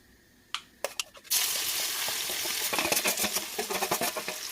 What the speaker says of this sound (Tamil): இந்த எண்ணெயில் கொஞ்சமாக கடுகு போடுறேன், கொஞ்சம் மஞ்சத்தூள் போடுறேன்